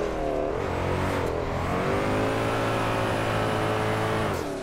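A drift car's engine revs in the racing game DRIFT21, a steady high whining drone that rises and holds, loud and continuous with harmonic tones, no talk.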